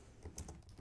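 Quick typing on a computer keyboard while entering a git clone command, a short run of close, soft key clicks lasting under a second with no talking.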